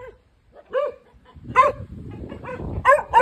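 Several dogs barking in short, separated bursts outdoors, near and fairly loud, with other outdoor background noise between barks.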